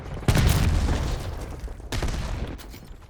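Explosions and gunfire in a Call of Duty multiplayer match: a loud, booming blast with rumbling decay, followed by a second heavy burst about a second and a half later.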